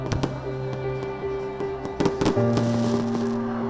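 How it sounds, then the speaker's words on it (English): Fireworks burst on New Year's Eve outside Christ the King Church in Kampala, a string of sharp pops and bangs over a steady, tonal background drone, with louder clustered cracks in the latter half. "Fireworks."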